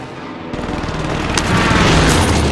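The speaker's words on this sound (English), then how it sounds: "Allied precision airstrike incoming." A heavy precision airstrike booms in a video game, a dense roar of explosions that builds and stays loud with sharp bursts and crackling debris over about two seconds, with no talk.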